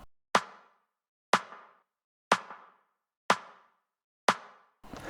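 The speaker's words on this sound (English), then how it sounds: "So a basic waves hat loop." Five evenly spaced, crisp hi-hat hits ring out alone at a steady one-per-second pace, each decaying quickly, forming a simple looped drum pattern for melodic house music.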